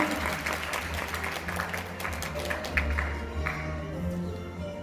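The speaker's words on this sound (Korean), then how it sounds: "큰 박수 좀 부탁드리겠습니다" Audience applause at a World Day ceremony honouring a foreign-community centre director in Korea, moderate clapping from a seated crowd with low hum underneath, heard at some distance.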